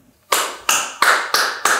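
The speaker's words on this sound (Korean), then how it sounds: "실장도 박수를 친다" Five sharp, loud claps in a slow, even rhythm from performers on stage during a Korean theater play, each a crisp isolated smack with a short decay and near silence between.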